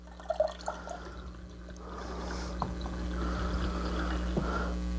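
A thin stream of fresh lime juice is poured into a cocktail being mixed, a soft liquid trickle with a few small drips and clinks at the start, close and quiet.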